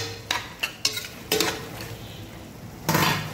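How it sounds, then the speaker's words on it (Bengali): Potatoes with dried kechki fish being stirred in a pan, a spoon scraping and knocking against the metal in several sharp, irregular strokes over a low sizzle. "এখন আলু দিয়ে এখন কতক্ষণ লাড়া দিতে হবে। ঠিক আছে, লাড়াবো"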